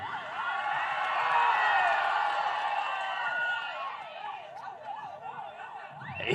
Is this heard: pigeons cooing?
no